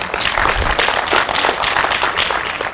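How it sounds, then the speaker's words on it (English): An audience clapping together in a hall, dense steady applause of many hands at a fairly loud level, continuing throughout without voices. "Everybody clap."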